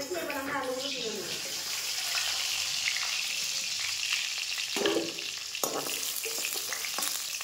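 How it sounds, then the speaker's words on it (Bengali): Potato pieces deep-frying in oil in a kadai for aloo dum, a dense continuous sizzle with occasional stirring clatter and a couple of louder hissing bursts, close and fairly loud. "এবার এই বাকি আলুগুলো আমরা আবার একই রকম ভাবে ভেজে নেব"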